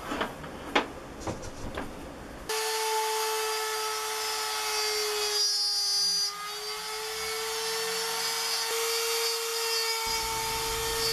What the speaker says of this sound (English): This quarter inch straight bit allows me to come a little bit closer to the outline than that round end bit did.